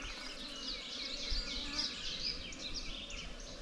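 Honeybees buzz around an opened nuc hive, a dense close swarm of fluttering drones with individual bees passing near, steady and moderately loud with no talk.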